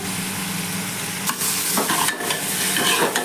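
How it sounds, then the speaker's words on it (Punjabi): A spoon stirs chopped tomatoes and salt into brinjal bharta in a hot pan, scraping and mixing over a steady, loud sizzle that runs throughout, with no talk. "ਚੰਗੀ ਤਰ੍ਹਾਂ ਮਿਲਾ ਲਵਾਂਗੇ"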